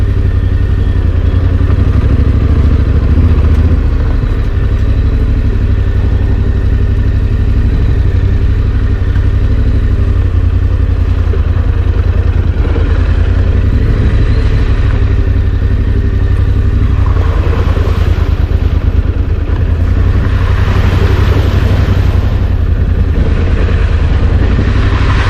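An adventure motorcycle rides along a dirt road into Brownsberg Nature Park in Suriname, the engine loud and close with a constant rumbling drone, wind buffeting and rattling over the rough surface throughout.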